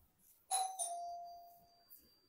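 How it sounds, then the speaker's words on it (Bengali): An electronic doorbell rings in a home, two clear chime tones with a long fading tail, fairly close and alone in a quiet room. "কলিং বেল টিপতেছে যে"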